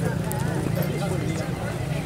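Horse hooves clip-clopping as the animal is walked to show its gait at a horse market in Faisalabad, steady and continuous beneath constant crowd chatter and nearby talk.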